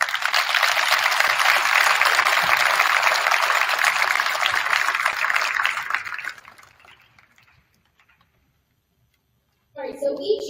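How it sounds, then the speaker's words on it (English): An audience at a drill team night applauds loudly for the team, a dense, sustained roar of clapping that fades away into silence, followed by a short burst of sound at the end. "I believe they deserve a round of applause."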